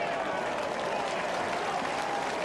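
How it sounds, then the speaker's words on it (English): Steady applause from a large stadium crowd at a 2005 Australian football match between Adelaide and Collingwood as a player leaves the field, a dense wash of clapping with broadcast commentary talking over it. "The applause for Matthew Clark coming off, replaced by Biglands."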